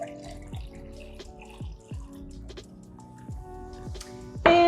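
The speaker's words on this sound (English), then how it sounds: "fill the rest up with sparkling water." Sparkling water poured close up into a glass of lemon rosemary mocktail, a steady liquid stream with small clinks and fizzing ticks running through it for a few seconds, then a brief brighter splash at the end.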